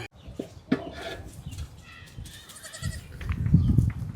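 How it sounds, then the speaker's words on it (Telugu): A newborn baby goat, just a day old, bleats several times in thin, high cries up close, with faint rustling and outdoor background noise around it. "నిన్నే పుట్టిందట అండి, చూడండి ఎంత బుజ్జిగా ఉందో, చిన్న మేకపిల్ల"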